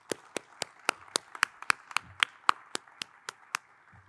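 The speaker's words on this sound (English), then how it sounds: "let's give a big round of applause to Councilmember Supernaw" Slow, evenly spaced single claps ring out, about fifteen crisp hits in a quiet room at a hospital opening in Long Beach, with a faint patter of other claps between them.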